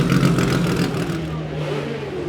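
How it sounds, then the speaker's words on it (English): Ferrari 250 short wheelbase racing cars run on a track at the Goodwood Revival, their engines passing as a loud, rising and falling roar, with a voice talking over it. "The 250 Ferraris have just come back in the short wheelbase ones."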